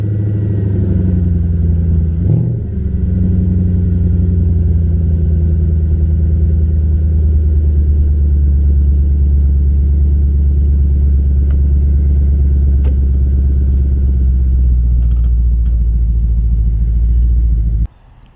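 A car's engine runs steadily while driving along a road, with a loud, close, low drone and a brief shift near the start. It cuts off abruptly at the very end.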